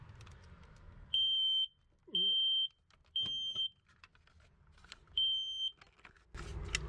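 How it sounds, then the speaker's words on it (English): A smoke alarm on a home-built lithium battery setup is tested with its button, giving four shrill, steady beeps of about half a second each, spaced evenly, with faint background sounds between them. "I thought I'll press the button to test it. So fire alarm still works."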